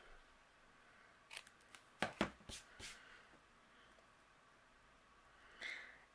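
Scissors trim a small strip of black cardstock up close, giving a few quiet crisp snips and rustles clustered in the middle, then a brief soft sliding sound near the end.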